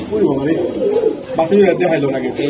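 Pigeons coo softly in a steady, low warbling murmur, close by, with someone talking over them throughout.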